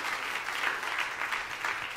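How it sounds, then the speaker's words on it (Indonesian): A church congregation applauds during a sermon, a steady, dense wash of clapping from a large crowd, moderately loud and continuous without any talk over it. "Tepuk tangan yang paling meriah."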